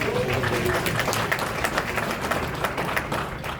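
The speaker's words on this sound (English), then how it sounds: "Let's give that a big round of applause." An audience at an AUSA keynote gathering applauds, a dense continuous wash of many hands clapping at steady volume throughout, with faint voices mixed underneath.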